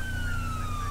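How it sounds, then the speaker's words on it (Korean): A standard police siren on a Hummer H2 in GTA V wails steadily in a brief, slowly falling tone over a low engine rumble, moderately loud and close. "1번 보통 사이렌"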